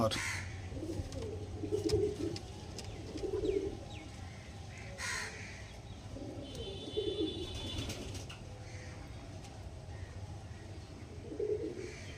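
Pigeons at a pigeon sale give low, soft coos in a few separate bursts. A steady background hum and other faint bird calls run throughout.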